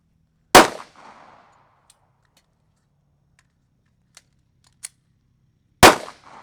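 Two sharp gunshots at an outdoor shooting range, spaced several seconds apart, loud and close with a brief decaying echo, plus a couple of faint clicks between them.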